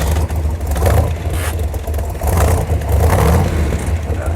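A 427 Corvette engine roars at close range, its deep rumbling idle swelling into repeated throttle blips and revs, loud and throaty, with no one speaking over it.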